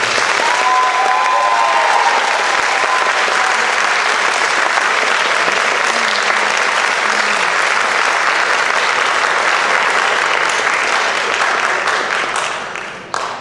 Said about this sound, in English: can we give all of our seniors one last round of applause?